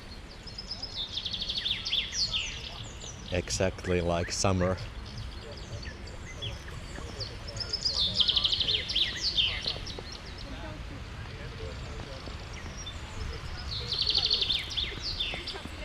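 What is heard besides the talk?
birds singing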